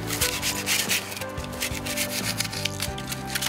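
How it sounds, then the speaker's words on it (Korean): Steady rubbing and rasping as a tool smooths the cut face of cured urethane filling in a tree wound, close and continuous with rhythmic strokes and no talk. "잘 굳은 우레탄 확인이 끝났으면 이제 단면을 매끄럽게 다듬어주는 작업을 진행합니다"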